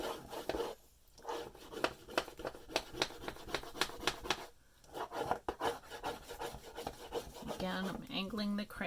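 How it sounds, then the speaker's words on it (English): Crayon scrubbing across hand-colored paper in quick, rhythmic crosshatch strokes, close and soft, pausing twice briefly before resuming the steady scratchy rasp. "I'm angling the crayon so that I won't catch the lips of these papers"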